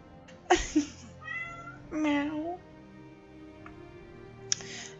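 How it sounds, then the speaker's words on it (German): A cat meows in Minecraft, one clear tonal meow early and a second longer meow around the middle, alternating with soft clicks and faint game ambience. "Oh, Katze."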